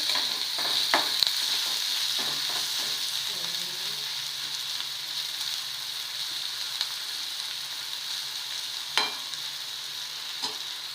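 An onion mixture for spicy potato bhaji is stirred in a frying pan, with a steady sizzle throughout and several distinct clinks and scrapes of the spoon against the pan.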